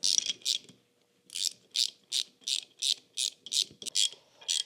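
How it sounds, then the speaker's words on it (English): Three-eighths-inch bolts are run onto a bearing separator for a Dana 44 rear axle with a ratchet, making close, evenly spaced bursts of clicking after a brief pause. "I'm going to bolt this to my bearing separator"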